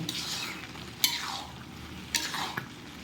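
Khichuri cooking in a pot while being stirred, a soft sizzle under sweeping scrapes of a spoon, broken by a few sharp knocks against the pot's rim, close and fairly quiet.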